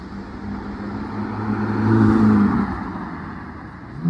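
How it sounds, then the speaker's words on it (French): A Ferrari GTC4 Lusso arriving on a Paris street, its engine hum swelling to a louder mid-range drone as it draws near, then easing off again. "on a également une Ferrari GT-C4 Lusso qui arrive"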